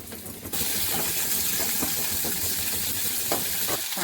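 Onion, curry leaves, dried red chilli and cumin sizzle steadily in hot oil, a loud, dense, continuous frying hiss that starts after a brief quieter moment and carries on alone.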